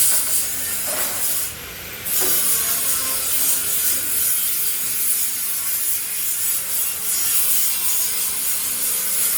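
A machine carving designs into an iron plate gives a steady, loud, broadband grinding hiss. It runs continuously with a brief dip in intensity early on.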